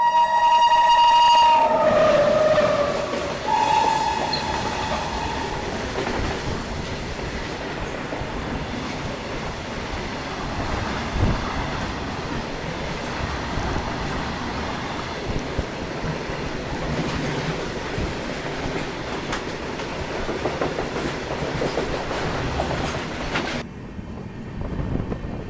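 A train passes at night on the Patna–Howrah route near Lakhisarai. Horn blasts open it, then a long, loud rolling rumble and clatter carries on for over twenty seconds before cutting off abruptly, with no voices.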